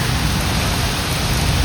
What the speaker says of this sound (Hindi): और मैं आपको दिखा देती हूँ जनाब बारिश बाहर।